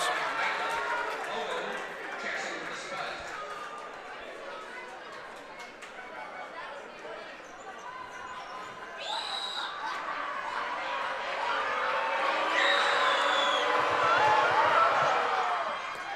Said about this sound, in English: the crowd is definitely dominated by the Buffalo Bison fans